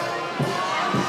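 A crowd in Senegal cheers and shouts as the president greets them, a brief burst of mixed voices swelling twice over a steady roar.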